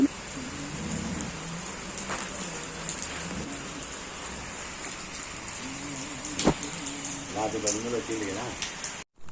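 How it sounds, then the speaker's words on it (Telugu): Steady heavy rain pours down in Anantapur in a dense broadband wash, with animal cries rising and falling above it. "భారీ వర్షం కురుస్తుంది అనంతపురంలో"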